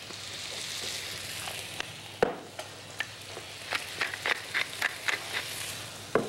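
Chicken frying in a pan gives a steady close sizzle, with a series of sharp clicks and scrapes of utensils against the pan building toward the end.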